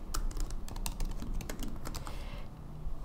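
Rapid typing on a computer keyboard while writing code: quick, close clicks in uneven bursts, loud at first and thinning out near the end, with no talking.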